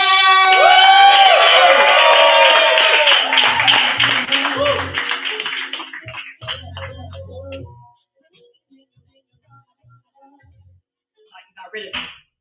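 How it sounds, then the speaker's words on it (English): An open mic crowd cheers and whoops for a poet, loud voices dominating the first seconds before fading into scattered taps, near silence and brief talk. "give a round of applause for our sack poet. Make some noise for Willow!"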